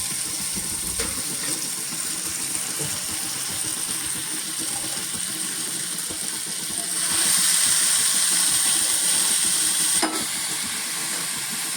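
Dalimbi beans, drained field beans, stirred into a hot spiced tempering with red chilli, giving a steady close sizzle and scraping, with a brighter hiss that swells midway and then eases back.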